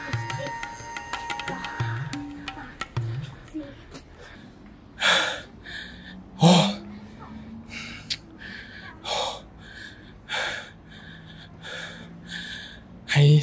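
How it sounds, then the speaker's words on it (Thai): Heavy, ragged panting from a man climbing long stone stairs up a hill toward a mountaintop shrine in Ayutthaya, with loud gasping breaths recurring every second or two, close to the mic, plus brief background noise at the start. "ให้เสียงหอบของผมนะครับเป็นตัวแทนว่ามันเหนื่อยแค่ไหนในการที่จะเดินขึ้นสู่จุดสูงสุดของยอดเขานี้"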